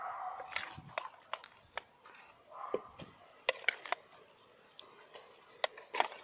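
A knife chops beef into small pieces on a board in a string of sharp, uneven knocks, close by, with quiet pauses between bursts.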